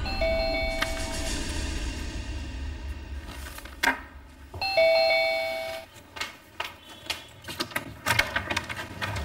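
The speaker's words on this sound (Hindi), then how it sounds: "तभी डोरबेल बजी" A chiming doorbell rings twice, its bright tones separated by a pause, followed by clicks and soft knocking sounds in a quiet room.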